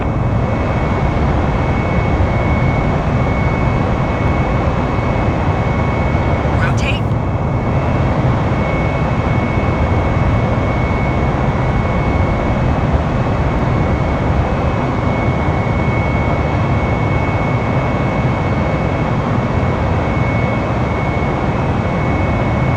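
Airbus A320neo jet engines at takeoff thrust in Microsoft Flight Simulator roar as a loud, steady broadband rumble throughout, with a brief sharp click partway through.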